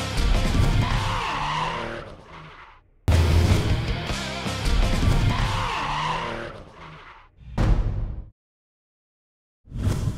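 Drift cars squealing their tires during a battle at a French drift championship round at Val de Vienne, with loud, sustained screeching and engine noise in long runs broken by sudden cuts and a brief silent gap.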